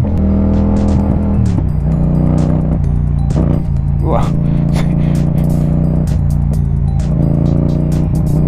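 A twin-cylinder motorcycle engine runs loud and steady, its drone jerking unevenly with rough surges in power, while someone speaks over it.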